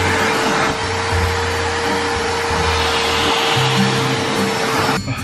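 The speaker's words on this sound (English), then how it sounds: "I'm getting them used to the sound of the vacuum so they don't get scared." A household vacuum cleaner runs close by in a home with cats, giving a loud, steady whine and roar without a break until it cuts off abruptly just before the end.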